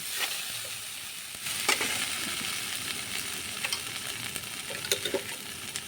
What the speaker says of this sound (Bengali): মশলা কষা হয়ে গেলে তারপরে মাংসটা দিয়ে দেব।